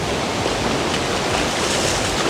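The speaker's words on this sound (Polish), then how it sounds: "Ale fale tam są" Surf on a Thailand beach washes in as a steady, broad wash of breaking ocean waves, loud and continuous with a little wind buffeting, and no voices.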